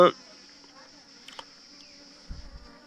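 A merged honey bee swarm with two queens hums steadily inside a hive box. The buzzing is faint and continuous, with a few soft knocks and a low thump near the end.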